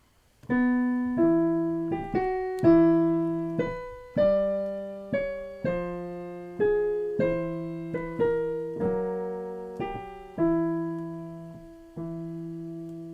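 Piano played with both hands, a bass line under a Harry Potter melody, notes struck one after another and ringing out at a moderate, even pace.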